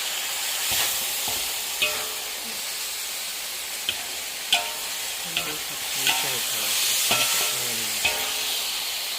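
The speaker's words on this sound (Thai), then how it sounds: "ชามนี้นะคะทำหมูผัดขิงใส่บาต" Pork and ginger stir-fry sizzles steadily in a pan, with a constant hissing fry broken by repeated scraping clicks and knocks of the spatula stirring, close and loud throughout.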